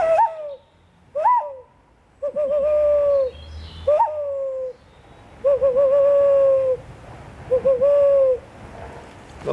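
A man imitates an owl or collared dove hoot outdoors near a cairn on the Isle of Arran, giving a series of clear, close, repeated hollow hoots separated by short pauses.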